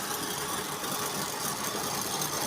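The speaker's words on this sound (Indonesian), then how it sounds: "Manasnya nggak lama juga nggak apa-apa, yang penting mesin dalam pemanasan" A car engine idles while warming up, a steady, close, continuous hum and rumble that stays level throughout with no speech.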